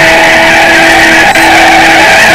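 Bugatti Veyron fitted with a motorcycle engine, skidding in a drifting video game, gives a loud, steady tire-squeal screech over a constant engine roar, with no voices.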